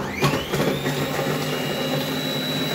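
A Fagor robot cooker blends pumpkin soup at speed 8, a steady loud motor whir with a high whine that holds evenly for the full few seconds, with no voices.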